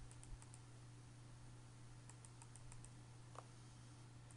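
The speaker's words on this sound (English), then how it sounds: "you can just type it in on your calculator" Soft taps of numbers entered on a calculator keypad, two short runs of light, evenly spaced clicks over a quiet steady hum.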